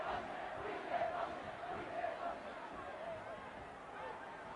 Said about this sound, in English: acknowledge the few cheering supporters in the crowd